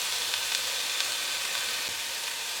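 Ingredients for Hungarian goulash sauté in a pan as it deglazes slightly, giving a steady, close sizzling hiss with faint crackles throughout and no talking.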